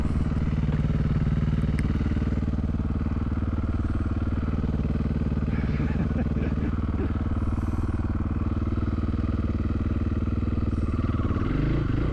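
A Husqvarna FE501 enduro motorcycle held in first gear as it powers up a steep hard-enduro hill: a loud, continuous, throaty engine drone with throttle surges and clattering mechanical noise close by.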